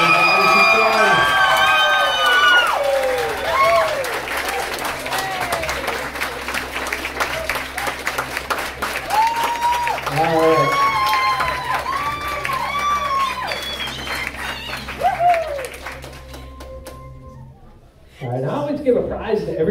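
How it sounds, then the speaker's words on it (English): A high school audience at a stage hypnosis comedy show claps and cheers loudly, with whoops and shouts across a sustained, dense round of applause that drops away near the end. "I'm going to have everybody clap, cheer, give them a nice round of applause"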